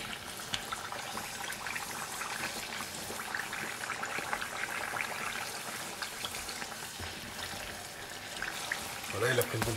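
Bokit bread dough fries in hot oil with a steady, dense crackling sizzle that holds throughout, closing with a brief louder burst of bubbling and clatter near the end.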